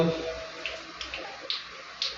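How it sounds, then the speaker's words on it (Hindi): Finger snapping during a Satyanarayan puja ritual gives four soft, crisp snaps spaced about half a second apart, faint against a quiet room hiss. "एक बीजा समय चुटकी वगाड़ो"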